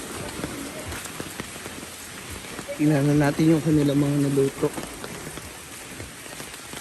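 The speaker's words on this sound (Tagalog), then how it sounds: "Sisimula na ang pag-ulan ulit dito sa farm." Steady rain patters down throughout on a farm, with someone speaking briefly over it partway through.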